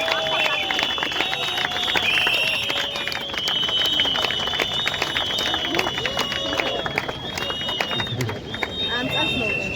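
Outdoor protest crowd in front of parliament, with steady applause and shouting voices blending into a dense, continuous roar, loud and close throughout, with brief whistles cutting through above it.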